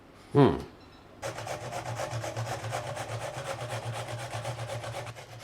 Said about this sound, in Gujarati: દૂધી આવી મીડિયમ ખમણીથી ખમણીએ ને તો સરસ ઢોકળામાં મિક્સ થઈ જાય.